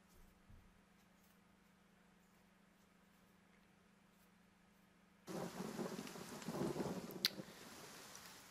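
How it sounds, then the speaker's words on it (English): Rain and thunder in the video game Pillars of Eternity, played on a PS4 Pro: a faint low hum gives way to a sudden wash of steady rain with deep rolling rumbles, and no one speaks. "that's a bit rainy and dull"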